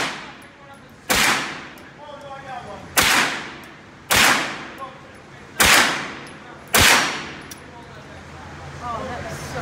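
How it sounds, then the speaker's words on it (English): Five loud gunshots from a firearm at a shooting range, fired one at a time with sharp cracks and ringing decay roughly a second or more apart, with faint voices murmuring in between. "Hey, can I shoot after you, Kiwi, if there's more bullets?"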